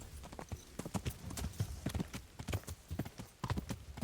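Horse hooves clopping in the medieval video game Kingdom Come: Deliverance, a quick, rhythmic run of close, crisp hoofbeats at a steady gait with no talk over them.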